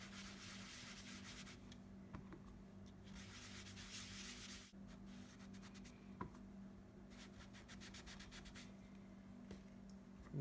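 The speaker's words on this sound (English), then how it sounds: "And then we're going to use some Daffodil Delight ink. And we're going to sponge." Sponge dabbing Daffodil Delight ink onto paper card through a mask, a steady close rubbing and scratching texture that swells in rough bursts, with no voices.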